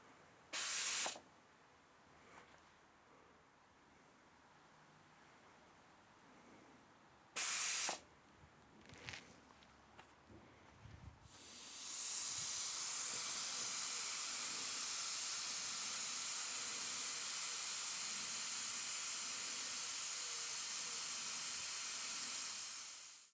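Pressure cooker making homemade tomato ketchup, brief sharp hissing bursts early on, then a loud sustained rush of steam as the pressure is released, steady for about twelve seconds before cutting off.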